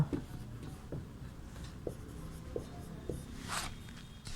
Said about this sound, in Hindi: तो आर्यभट्ट, यहाँ पे लिखेंगे आर्यभट्ट